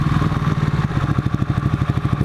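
A 2015 Ducati 899 Panigale motorcycle engine idles close by with a steady, lumpy throb and rapid pulsing beat, loud and alone throughout.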